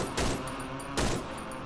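Gunfire from a full magazine being emptied in a video game, heard as two loud, dense bursts about a second apart, each with a sharp crack and a brief decaying tail.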